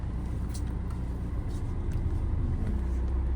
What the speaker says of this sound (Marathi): तर काय आता चाललोय तर आम्ही बाहेर काढतोय गाडी.